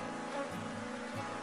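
Forager honeybees buzz steadily around an opened hive during a swarm split, a close, continuous droning hum with no voices.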